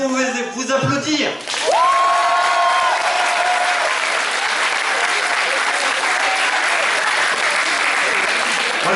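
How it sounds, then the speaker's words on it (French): A crowd at a Dijon cosplay contest claps for itself, a loud, dense burst of applause with a few whoops and cheers that follows a brief spoken line and holds steady to the end. "allez, vous pouvez vous applaudir."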